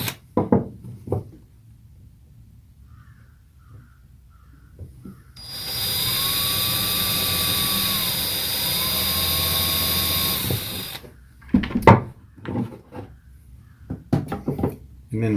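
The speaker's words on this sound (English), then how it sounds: "I'm going to just drill a quick hole in them" A power drill whines loudly for about five seconds as it bores into pallet wood, bracketed by knocks, handling clatter and brief speech.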